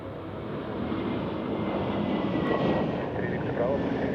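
A Swiss A321neo airliner landing at Zurich Airport in crosswinds, its engines a steady broad roar with wind noise that holds throughout and rises slightly, while a radio voice talks over it.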